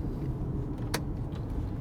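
An electric sunroof on a 2005 Audi A6 TDI closes with a short motor whir and then a brief clunk as it seals, close by and alone.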